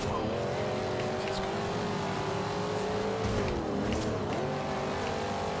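A car engine and exhaust in the racing game Forza Horizon 2, a steady loud drone whose pitch holds and then dips and rises as the car shifts and accelerates, running without a break.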